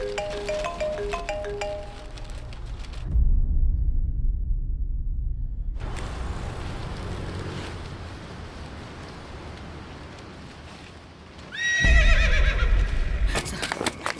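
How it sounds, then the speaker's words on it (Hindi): A horse gives a loud whinny at the start and again near the end, with a muffled low rumble and scraping noises in between. The scene comes from a dramatic street setting, and no one speaks. "घोड़े को छोड़ दीजिए ना सर।"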